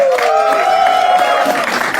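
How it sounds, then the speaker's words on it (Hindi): Applause from the audience at a comedy crowd-work show, a brief burst of many hands clapping with a sustained tonal note running through it. "जोरदार तालियों के साथ."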